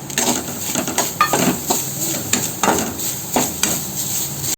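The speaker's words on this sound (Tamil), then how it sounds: "இதில் நம்ம அந்த தேங்காயை கொட்டி கொஞ்சம் சிறிதளவு வதக்கணும்" Grated coconut stirred and sautéed in a hot dry kadai for sweet kolukattai filling, giving a close, steady scraping and clinking of a spoon against metal with a soft sizzle, in irregular strokes with no talking.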